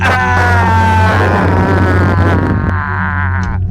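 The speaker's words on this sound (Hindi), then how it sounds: "यंत्र के साथ एक तेज चीख" A loud, sustained scream with strong tonal harmonics rises over a constant low drone in a ghost story, cutting off near the end.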